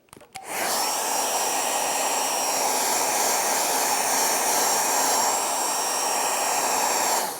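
A hair dryer used to dry a painting starts up after a few clicks and blows continuously with a loud, steady roar that holds without talk.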